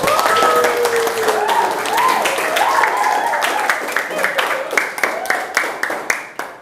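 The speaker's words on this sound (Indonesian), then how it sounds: "Ya, bagus, tepuk tangan." Classroom applause from students in a vocational school lesson, mixed with voices at first, then thinning into a few separate, distinct claps toward the end.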